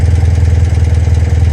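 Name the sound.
BMW Airhead motorcycle engine starting and idling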